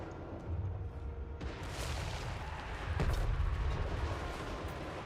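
Gunners firing in the Total War: Warhammer 3 video game, heard as a continuous rumble of distant artillery and gunfire. Overlapping booms build and swell midway, then a dull roar carries the battle noise on to the end.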